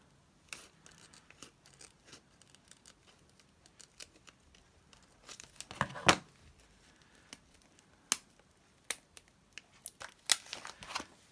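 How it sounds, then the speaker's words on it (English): Scissors snip through a small Velcro dot, a series of quick close crisp cuts and scratchy rustles in an irregular rhythm, with a few louder snaps in the middle and no talk. "So I'm going to add a little Velcro dot, but I'm not using the whole dot. So I'm just going to cut it in half."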